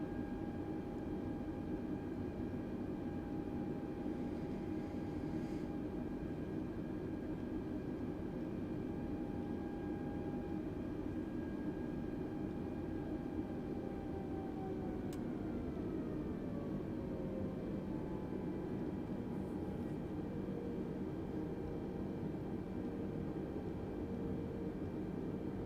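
Airbus A320neo jet of TAP Air Portugal taxiing onto the runway at Porto in Microsoft Flight Simulator 2020: a steady, loud engine whine and broadband rumble that holds throughout, with tonal lines sliding downward midway as thrust changes.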